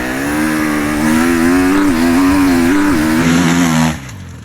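A dirt bike engine revs hard and loud on a dragster run, a close, sustained buzzing drone that wavers in pitch before dropping away abruptly near the end.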